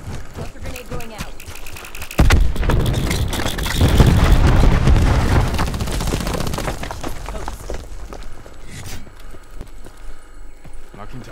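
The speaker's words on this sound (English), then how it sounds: "Cluster grenade going out." A cluster grenade explodes in Call of Duty Black Ops 4 multiplayer, a heavy boom followed by a rolling spread of smaller blasts and scattered gunfire, with voices over the game sound.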